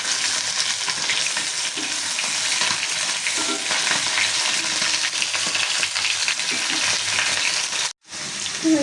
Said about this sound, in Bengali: এখানে আমার মাংসটা ভাজা হয়ে আসছে।